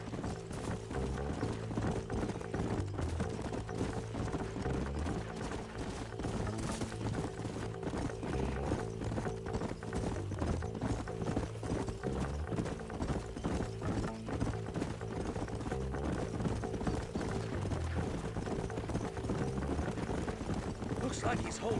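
Horse hooves clip-clop steadily in a Red Dead Redemption game scene, a continuous rhythmic clatter of several horses at a walking pace, with voices speaking over it.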